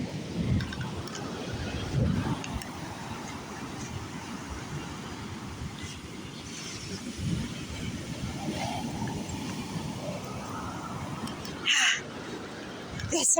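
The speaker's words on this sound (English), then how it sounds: "There's some more birds." Crows caw at a beach on a day out with a dog, a few harsh calls heard at a distance over the steady rush of surf and wind, while a person talks nearby.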